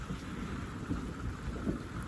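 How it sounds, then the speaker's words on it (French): A morning thunderstorm sends low, faint thunder rumbling on and off through the steady patter of rain, heard at a distance with no voices. "on ne voit pas les impacts, hein, mais ça gronde."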